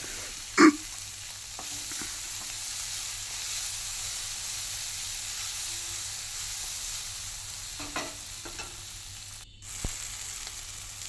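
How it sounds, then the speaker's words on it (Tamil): Dried red chillies frying in a pan for a home-cooked curry give a steady, soft sizzle and hiss throughout, with a sharp clatter near the start and a few faint stirring knocks later on. "ரெண்டு வரமிளகா கூட பிச்சு போட்டுக்கோங்க ஃப்ரெண்ட்ஸ் குழம்பு கலர்ஃபுல்லாக இருக்கும்"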